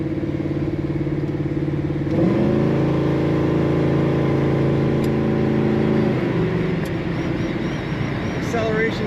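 A 1972 Chevrolet Nova engine rises in pitch under acceleration, a loud droning revving for several seconds before easing off, with heavy road and cabin noise.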